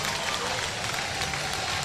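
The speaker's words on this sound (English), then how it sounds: "And listen to the crowd." Minor league baseball crowd in Knoxville roaring and applauding after a home run, a dense, steady wash of cheers and clapping filling the ballpark with no break.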